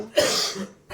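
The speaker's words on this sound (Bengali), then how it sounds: "কাশি রয়েছে তো" One short, close cough from a person indoors, a single harsh burst with no talking.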